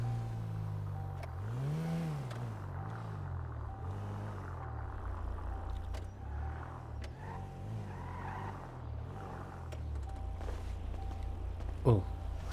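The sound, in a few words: taxi car engine running in GTA video game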